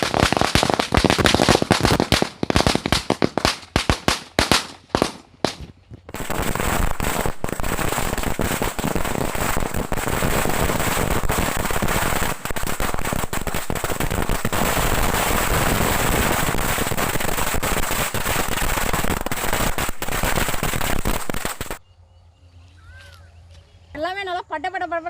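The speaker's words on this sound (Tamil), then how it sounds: "எல்லாமே நல்லா பட்டப்பட சூப்பராக வெடிச்சிருச்சு" A long string of firecrackers going off on a rainy day beside a water-filled channel, first scattered loud bangs, then a dense continuous crackling roar for about fifteen seconds that stops abruptly, followed by a voice talking.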